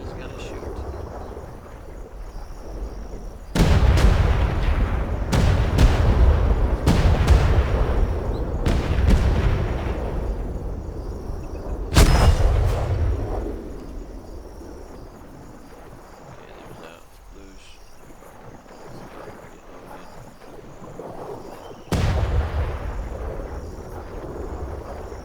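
Heavy ship cannon shots boom in the Atlas game as a brigantine fires, several loud broadband blasts at irregular intervals with long rumbling tails over ambient insect chirping; someone talks between shots.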